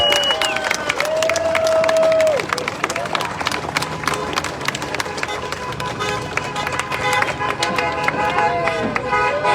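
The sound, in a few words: crowd applause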